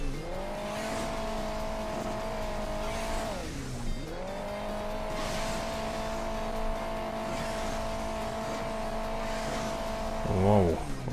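A diesel vehicle's engine in Hill Climb Racing 2 holds a steady high rev, dips briefly and climbs again, then sustains before a short wavering burst near the end, loud and continuous with no voices over it.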